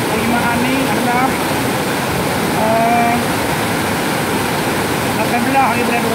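Swollen Kelantan River after continuous heavy rain, a loud, steady rush of floodwater roaring throughout, with faint tonal sounds drifting over the wash.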